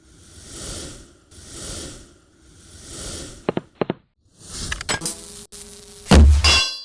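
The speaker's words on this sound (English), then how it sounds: "let's get to it and crack this thing open" Marvel Legends action figure being unpacked from its packaging, slow swishing plastic rustles followed by sharp clicks, cracks and clattering handling noises, close and fairly loud, with no speech.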